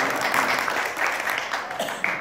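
Brief applause from a magic show audience for a volunteer, a dense patter of clapping hands at moderate level that tapers slightly near the end.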